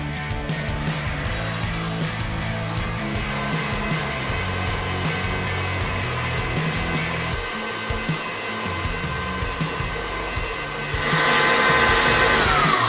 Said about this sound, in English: using a hand or stand mixer, we're going to mix this up until we get to a soft peak stage